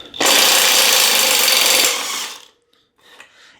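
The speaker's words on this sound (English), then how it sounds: "So I'm going to go ahead and again use my impact wrench" An impact wrench removing the cartridge bottom bracket of a Fuji Nevada mountain bike gives a loud, steady mechanical whirr for about two seconds, then stops, leaving a few faint clicks and handling noises.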